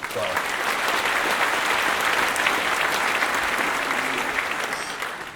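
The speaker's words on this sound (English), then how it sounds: "Give him a round of applause." A crowd at a civic presentation in Wellington applauds loudly and continuously, clapping sustained at full strength before easing slightly at the end.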